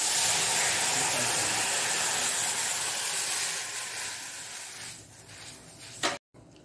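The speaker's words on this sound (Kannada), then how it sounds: "ಈ ನೀರು ಹಾಲನ್ನು ನಾನು ಇದರಲ್ಲಿ ಸುರಿಗೆ" Thin coconut milk poured into a hot pan while making makhana (lotus seed) payasa gives a steady, close sizzling hiss that slowly fades over several seconds, then cuts off abruptly.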